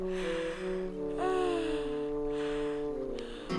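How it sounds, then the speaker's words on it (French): Cartoon character letting out a long, drawn-out yawn, loud and close, with a rising then falling voiced tone. "J'ai bâillé! Avant le Grand Prix, j'ai bâillé!"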